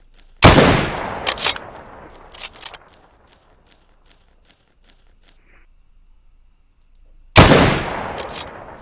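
Gunfire from the video game Crossroads Warfare: two sharp, loud shots, each followed by a rattling echoing tail, separated by several seconds of near silence.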